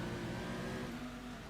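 Race car in Gran Turismo 2 holding a hard, steady engine drone, the revving tone sustained and loud throughout with no talk over it.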